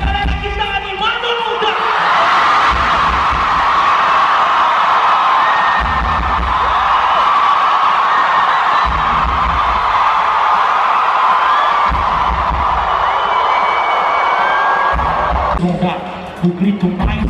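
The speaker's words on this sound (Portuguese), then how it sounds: "o grito mais alto da vida de vocês" A packed concert crowd at a band show screams and cheers loudly and continuously, a sustained roar of many voices with shrill yells on top, with a brief lull near the end.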